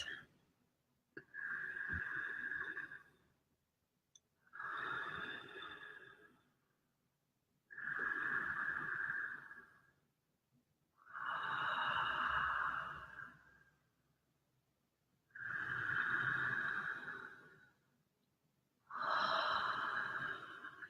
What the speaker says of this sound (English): You can alternate between nostril breathing and mouth breathing if you'd like